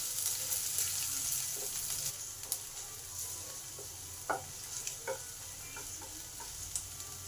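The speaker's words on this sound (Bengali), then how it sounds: "লঙ্কা রসুনটাকে একটু ভালো করে ভেজে নেবো" Chopped garlic and green chilli frying in oil in a pan, a steady soft sizzle with occasional light clicks of a stirring spoon, no voices.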